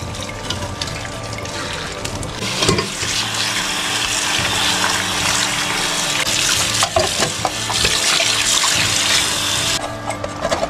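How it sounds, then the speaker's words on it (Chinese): Boiling water pours steadily from a kettle over a stack of dirty bowls in a kitchen sink after dish soap is added, a loud continuous splashing and hissing rush close by, alone. "开水浇上"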